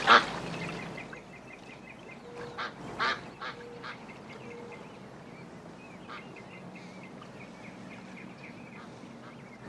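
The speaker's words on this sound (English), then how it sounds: "Ray, the ducks are over here." After a brief loud bump, ducks quack and honk in short, fairly faint bursts at a distance over quiet background noise.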